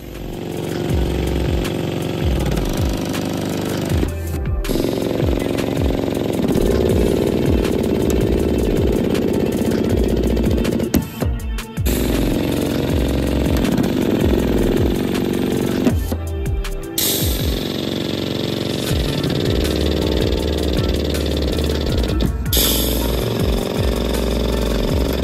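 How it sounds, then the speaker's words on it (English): Pneumatic rivet tool driving flow-formed rivets into a Tesla Model 3 body side aperture on a Celette repair bench, a loud continuous mechanical whine and rattle that runs throughout, with a few brief pauses between rivets. "Time to install the flow-formed rivets."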